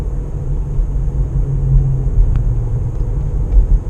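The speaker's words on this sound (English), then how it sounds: "still I'm free rolling here down the hill" A car free-rolls downhill in neutral with a steady low road rumble and tyre drone, close and continuous, with no engine revving and no talking.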